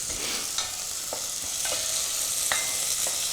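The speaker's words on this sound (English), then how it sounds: "stir that around. We'll just let this sweat and start to soften just a little bit." Chilies and aromatics for shrimp sambal sizzle steadily in a hot pan while a utensil stirs them, scraping the pan with a few soft knocks.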